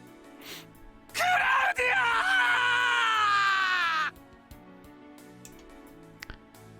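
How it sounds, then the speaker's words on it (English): A male character screams in the Dies irae visual novel: one long, anguished, strained cry lasting about three seconds, loud and close, with quiet music and ambience before and after. "His scream didn't reach her."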